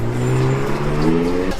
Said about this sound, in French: Oh la voiture.